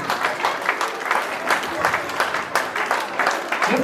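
Concert audience at an Artsakh youth folk-instrument orchestra performance in a village applauding a musician, a lively continuous burst of clapping from many hands, close and loud with some voices mixed in.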